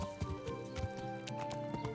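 Horse hooves clip-clop steadily in Kingdom Come: Deliverance, with a soft whinny and layered music and ambience playing underneath.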